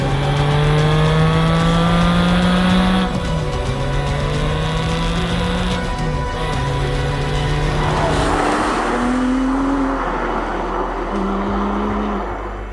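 A Porsche 718 GT4 engine drones loudly, its pitch climbing through gears with brief dips as it shifts, continuous and close throughout.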